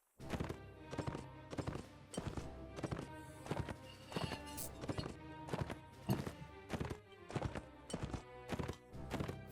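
Rhythmic clip-clop of horse hooves galloping in Mount & Blade: Warband, a fast, even run of loud thuds with short pauses and no talking.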